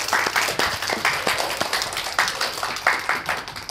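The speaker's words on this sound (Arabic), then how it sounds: "تصفيق تصفيق على نهى" Applause for a girl named Noha on a Children's TV show, with scattered claps in a lively mix of sharp hand strikes over a busy background, irregular and fairly close.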